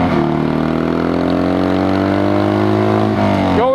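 A 26-year-old Harley-Davidson motorcycle pulls hard toward top speed on a road going up a bridge, its loud, close engine drone climbing steadily in pitch, then dropping briefly with a shift near the end.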